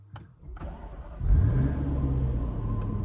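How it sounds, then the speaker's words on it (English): A Jaguar XKR's supercharged V8 started with a push button: a couple of clicks, then the engine cranks, catches with a rising roar and settles into a steady, close idle. "we'll start up the supercharged V8 with the start-stop button there"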